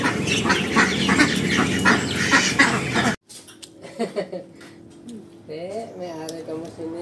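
Ducks on a rural farm in the Philippines quack and squawk in a dense, noisy flock for about three seconds, followed by scattered nearer calls with people talking.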